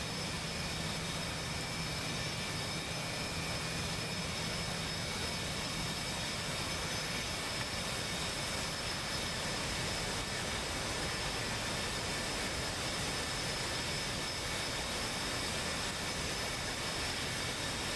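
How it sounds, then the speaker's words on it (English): Jet aircraft engine in the DCS flight simulator game, a steady broadband roar held at constant level throughout with no break and no voices. "Is this Velike's plane"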